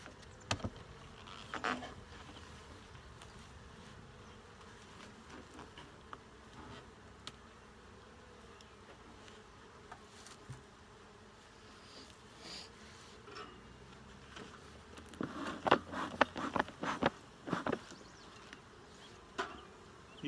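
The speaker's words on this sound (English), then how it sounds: "These bees in this hive here are pretty calm for the most part." Honey bees buzzing around an open hive during a calm inspection with a little smoke, a low continuous hum close by, with several louder passes and bursts near the end.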